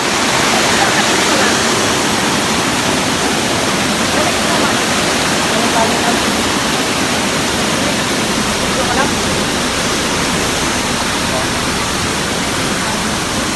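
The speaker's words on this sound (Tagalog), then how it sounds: "naabot na namin ang falls na doon sa baba." Tungtong Falls pours down in a steady, loud roar of rushing water that stays close and continuous throughout, with no break or change in intensity.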